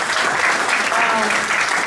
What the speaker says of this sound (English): let's give him a hand clap,